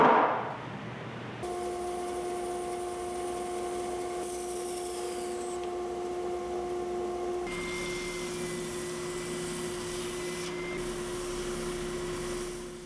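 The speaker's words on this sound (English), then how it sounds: "so I'm roughing it out on the belt sander" A belt sander roughs out and rounds the head of a handmade wooden mallet, its steady motor drone and abrasive rubbing holding on continuously after a short start, with tonal whine shifting partway through as pressure changes.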